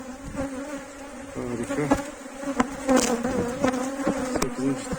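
Dense, continuous buzzing of many honeybees at a PVC hive fills the clip, close and steady, with occasional louder passes from individual bees.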